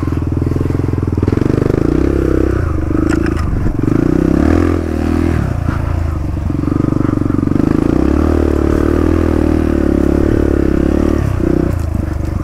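A dirt bike picks its way through a tight, curving creek, its engine loud and close throughout with uneven revs, and scrapes and clatters from rocks and water.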